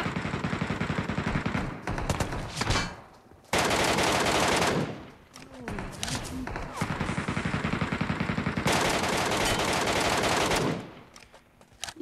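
Loud, sustained automatic rifle fire from the battle-royale shooter game Metro Royale, long bursts of rapid shots broken by short pauses and a few single cracks, with faint voices of squadmates talking over it.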